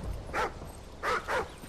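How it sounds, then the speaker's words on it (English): Dog barks from Call of Duty: Ghosts: three sharp bursts, one early and two close together near the end, moderately loud over a low game rumble with no speech. "What is this dog up to?"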